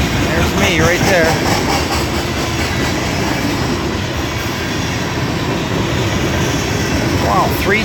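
A CSX freight train passes close by with faded Chessie-painted boxcars, a loud continuous rumble of rolling wagons with rhythmic wheel clatter and brief squeals throughout.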